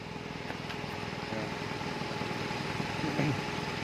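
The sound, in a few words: engine idling after new battery installed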